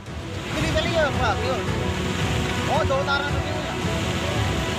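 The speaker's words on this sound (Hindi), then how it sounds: "पानी रौद्र रूप धारण किए इन घरों को बहा ले जाने के लिए उतारू दिखाई दे रहा है।" Loud, steady rushing of turbulent floodwater sweeping away houses and cars in heavy rain in Dharamshala, a broad continuous roar with a voice talking faintly over it.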